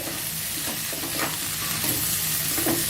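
Raw banana fry with spice powder is stirred in a hot pan, a steady close sizzle with scraping, shuffling strokes of the spoon layered over the frying hiss throughout.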